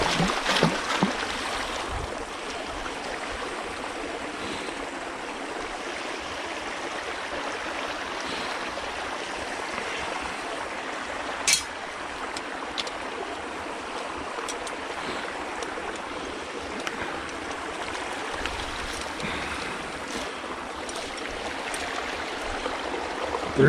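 High river water carrying debris washes through a fishing net staked in the current, a steady, loud rushing wash with scattered small splashes and knocks, alone and without talking.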